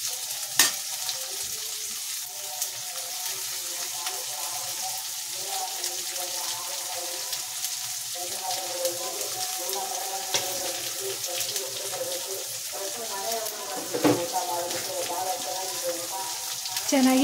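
Chopped capsicum frying in a pan for corn capsicum masala, a soft steady sizzle with occasional stirring knocks, faint under background music.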